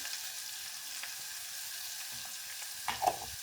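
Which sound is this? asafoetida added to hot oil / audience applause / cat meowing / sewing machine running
asafoetida added to hot oil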